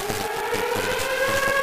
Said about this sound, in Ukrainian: Оголошена повітряна тривога.